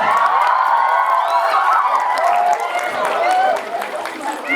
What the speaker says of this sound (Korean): 자, 큰 박수로 맞이해 주세요.